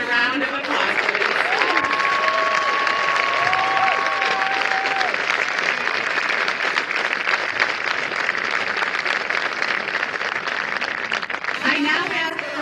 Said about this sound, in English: Please join me in a round of applause, please.